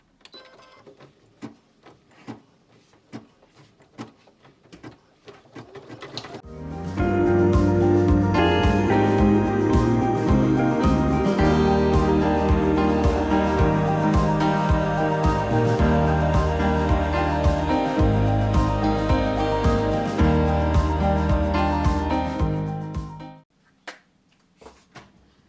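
A sewing machine stitches the third seam of a suspender, joining the top finishing to the lining underneath. After a few quiet seconds, a loud, steady mechanical whirr runs for about seventeen seconds, then stops abruptly.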